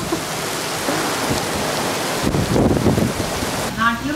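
Rain falling in Dubai, a steady broadband hiss of rainfall throughout, with a voice briefly speaking near the end.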